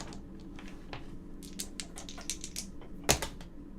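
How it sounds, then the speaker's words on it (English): Two dice are rolled during a game of Betrayal at House on the Hill, a run of light clicks and rattles ending in one sharp, close clack, with no talking. "Now you roll 2 dice."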